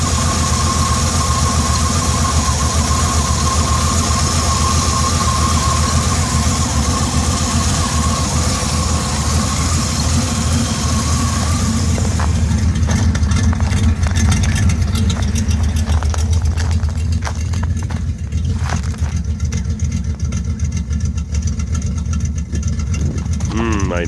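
A Chevy 305 V8 fitted with a Crane 274H06 camshaft and a manual choke cold starts and settles into a loud, steady, lumpy idle, with speech heard over the rumble.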